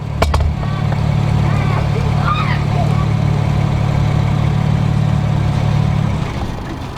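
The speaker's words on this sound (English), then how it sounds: "just pull it straight out while the car is running, in a minute you'll hear the car die." A BMW 335i with the N54 engine idles steadily after its fuel pump fuse is pulled, then sputters and cuts out near the end, the low engine hum dropping away to quiet; a voice is briefly audible early on.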